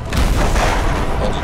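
A magic missile spell blast in the Lego Lord of the Rings video game, a dense, loud low rumbling burst that fills the short moment without a break.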